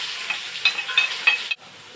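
Chicken pieces sear and fry in a pot, a steady close sizzle with a few brief stirring surges, then cutting off abruptly near the end, with no voices.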